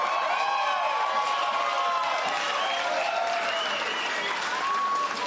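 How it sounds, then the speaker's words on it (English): Crowd applause for a parliamentary team on an election night, a sustained wall of clapping with cheers and whistles rising over it, loud and unbroken across the clip. "give a huge round of applause to Gerard Maley,"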